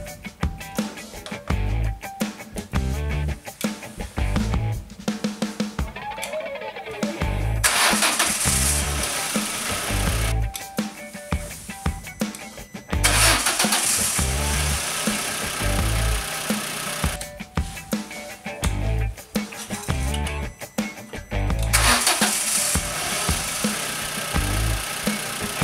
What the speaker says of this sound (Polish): zobaczymy, czy sam jumpstarter jest w stanie uruchomić samochód